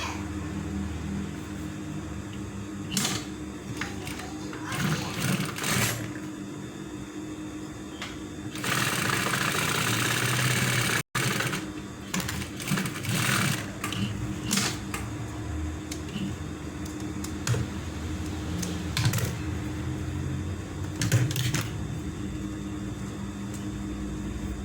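A sewing machine stitches a polo shirt button placket, its motor whirring in bursts with short pauses, including a louder dense run midway, close and steady with no talking.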